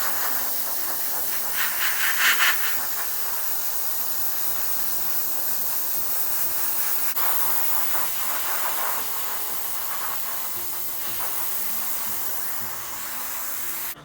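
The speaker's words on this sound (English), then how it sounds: "We're gonna do some airbrush painting here next." An airbrush sprays paint onto a whitetail deer taxidermy mount with a steady, close hiss that swells in short bursts over continuous compressor noise.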